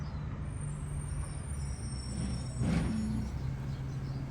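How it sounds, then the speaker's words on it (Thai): A garbage truck collecting rubbish on a street, idling with a low steady engine drone and a short hiss of air brakes releasing midway, heard from a moderate distance with no talk. "จะได้ยินเสียงรถมาเก็บขยะหน่อยนะวันนี้ วันนี้รถมาเก็บขยะ"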